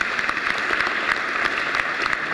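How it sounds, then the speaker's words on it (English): An audience at a talk on nonviolent life gives a dense round of applause for the Ground Zero Center, close and steady clapping that fills the whole moment without speech. "A round of applause for Ground Zero."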